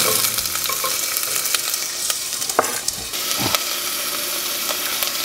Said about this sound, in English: we're gonna get these onions straight into the pan